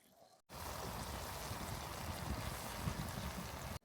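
Batter-coated egg jhal pitha frying in hot oil: a loud, dense, steady crackling sizzle that starts abruptly, holds evenly for a few seconds, then cuts off, with no voices.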